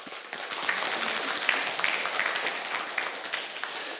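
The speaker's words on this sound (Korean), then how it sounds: "우리 모두 한번 박수 한번 쳐줄까요?" An audience applauds at a Catholic talk at Gapgot Martyrs' Shrine, with steady, dense clapping that fills the whole stretch at moderate, even loudness with no voices over it.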